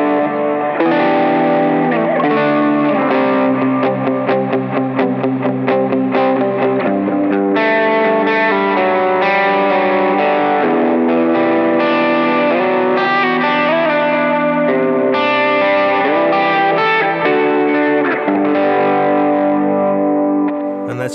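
Electric guitar run through two stacked gain pedals on an ambient pedalboard, a thick driven tone with chorus and echo trails. Strummed chords and notes sustain continuously for about twenty seconds.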